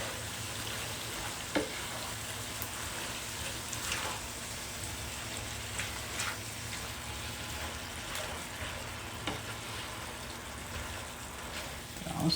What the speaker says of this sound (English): Stir it all over the turkey.